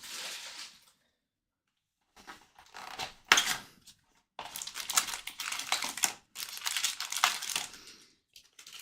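Packaging is unpacked from a hockey card box: quiet crinkling, tearing and rubbing of styrofoam and wrapping come in irregular bursts separated by brief silences, close and fairly faint.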